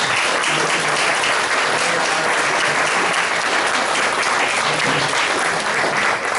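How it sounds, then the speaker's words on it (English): An audience at a county training session breaks into loud, sustained applause for task force members, a dense, even wash of many hands clapping for several seconds. "Take a round of applause."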